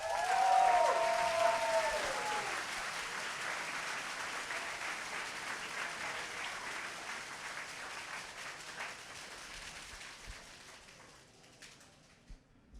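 An audience applauds after a pitch at a business pitch event. The broad clapping begins at full strength with a short tone at the start, then fades slowly and thins out until it is faint at the end.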